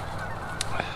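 Geese honk during a winter bird count near Lethbridge, a few distinct calls over a steady background hum, moderately close and brief, with no talking.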